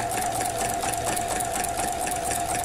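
A sewing machine fitted with a walking foot stitches quilt layers in a fast, even mechanical chatter with a steady whirring hum, running continuously close up with no talking.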